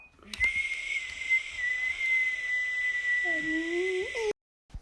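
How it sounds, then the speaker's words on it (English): One person breathes out in a long, level whistle through pursed lips, then slides into a lower, rising whistled tail before stopping abruptly; close, clear, and steady. "whistle breathing increases your lung capacity, cools your nervous system, relaxes you"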